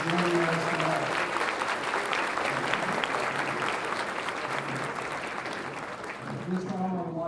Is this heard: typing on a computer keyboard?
no